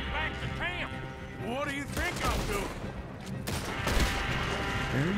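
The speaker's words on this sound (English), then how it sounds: "Shoot him, Arthur. I am shooting him." Gunfight in Red Dead Redemption 2, a burst of rapid gunshots and fusillade cracks mixed with game music and shouting voices, loud and busy, with people talking over the action.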